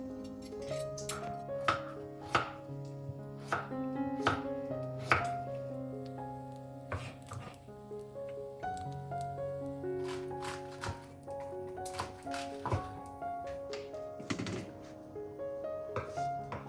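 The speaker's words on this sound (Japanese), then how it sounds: "そしたらキャベツと人参を切りますよ。" A knife cuts cabbage and carrots on a cutting board in a home kitchen, a steady run of crisp, close chops in short bursts with brief pauses, backed by a soft musical background and no speech.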